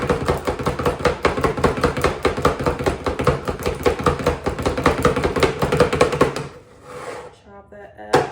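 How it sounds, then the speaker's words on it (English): Rapid, steady knife chops strike a cutting board in a dense rhythm for several seconds, then stop and give way to a few softer knocks and handling sounds, with a voice murmuring briefly near the end. "Chop that up good and small"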